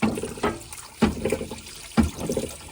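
Water gushes in repeated surges out of a tank's flooded engine, three sloshing pulses about a second apart, fairly close and moderately loud.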